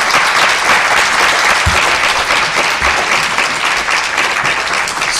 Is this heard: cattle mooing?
no